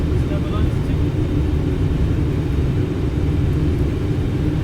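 Steady, loud low-pitched engine roar and rumble inside an aircraft during landing, filling the cabin with constant broadband noise while voices speak over it.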